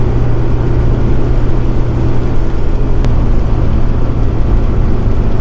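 A Nissan Navara D22 ute cruises along a road toward Cradle Mountain, its engine and road noise forming a loud, steady drone from inside the cab, with no talking.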